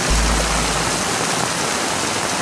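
Heavy torrential rain pours down in Bacabal, Maranhão, a loud, dense, unbroken hiss of water filling the whole clip with no voices.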